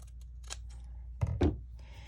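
Multi-purpose scissors cut through fabric while making lacy fabric clusters, giving two quick close snips in a quiet room.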